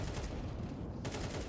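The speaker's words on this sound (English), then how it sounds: "the wall bangs" Muffled bursts of rifle fire punched through a wall in Counter-Strike on the Overpass map during a pro match, a steady rattle of shots running throughout at moderate level.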